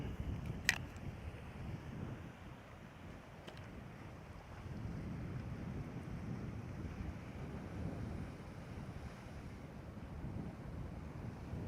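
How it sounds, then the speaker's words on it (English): Low, continuous wind buffeting the microphone near open ocean at Kona, Hawaii, fairly quiet and steady, with a faint sharp click near the start. "It's a little windy today, so I'm gonna have to see how this does with the wind."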